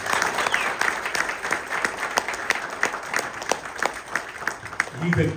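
Audience applause fills a hall at the launch event for Hamsaleka's film OK, steady dense clapping throughout with crowd noise and some voices mixed in.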